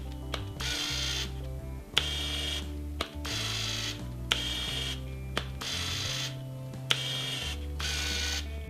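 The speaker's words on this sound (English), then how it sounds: "Autofocus motor is loud and slow." The autofocus motor of a Canon EF 75-300mm f/4-5.6 III lens whirs loudly in repeated short bursts, each roughly a second long and ending in a click, close up with no talk.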